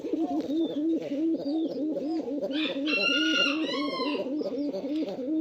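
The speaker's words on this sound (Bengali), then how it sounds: "এটা আমাদের পুরান জাতের গোল্লা কবুতর, দেখছেন?" Big, red-eyed Golla pigeons of an old local breed coo steadily in a rapid repeating rhythm, close and continuous, while a rooster-like call and chirps rise briefly in the middle.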